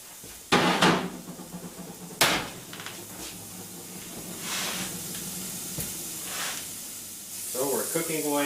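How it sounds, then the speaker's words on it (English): A wood-burning cook stove's grate being shaken to drop coals into the ash pan below: sharp metallic clanks and rattles at the start, then scraping and a steady sizzle of cooking, with brief speech near the end. "This shakes the coals down like that into a ash pan down below"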